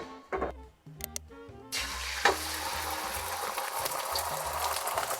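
An egg added to a pan of hot oil, one tablespoon swirled first, for garlic cauliflower fried rice: after a few clicks and taps, a loud, steady broadband sizzle takes over and keeps going, close and with no talking.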